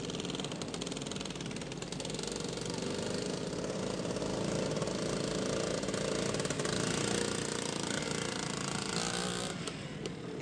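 A DOT trials motorcycle ridden by Ron Gordon at a 1971 Australian scramble, its engine droning steadily and loudly throughout with a rough, buzzing tone and no pauses.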